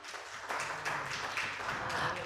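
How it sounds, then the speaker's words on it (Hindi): A crowd claps at a book launch event, a quiet but dense patter of hands that swells after the first half second and keeps going evenly. "जोरदार तालियां।"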